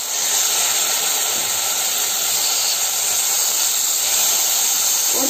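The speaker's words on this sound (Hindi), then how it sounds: "अब हम कढ़ाई पुदीना पनीर में डालेंगे उसका मेन इंग्रेडिएंट," Fresh mint leaves dropped into a hot kadhai for pudina paneer give a loud, dense, unbroken hiss of sizzling oil, close and steady throughout.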